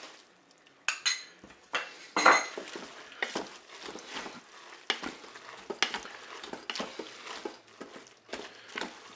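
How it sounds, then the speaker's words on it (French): Crème fraîche being stirred into pasta in a Cookeo multicooker pot, with a utensil scraping and clinking against the metal bowl in irregular bursts at close range and no talking. "je vais ajouter ma crème fraîche et je vais mélanger"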